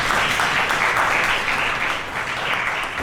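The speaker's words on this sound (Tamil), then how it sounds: "கைத்தட்டிங்களா" Guests at a Christian engagement ceremony in Mumbai applaud, producing loud, continuous, dense clapping that holds evenly throughout.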